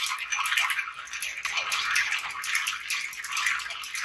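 Ice rattling and clinking steadily in a mixing glass as a White Negroni is stirred, a continuous close, bright churning swirl with no pauses and no talk.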